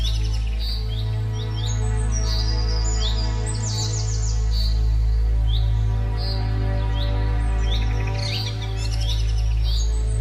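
An injured blue parrot in a jungle cartoon gives repeated high chirps and tweets in quick clusters, loud and close, over a steady low hum.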